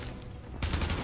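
Rapid gunfire from the video game The Division, a dense burst of shots that starts suddenly partway through and continues loudly to the end, with no voices.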